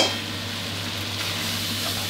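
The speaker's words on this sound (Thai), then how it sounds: "ผัดคลุกเคล้ากับซอสให้เข้ากันดีครับ" Spaghetti being stir-fried and tossed with sauce in a hot pan, a steady close sizzle with soft stirring scrapes running continuously.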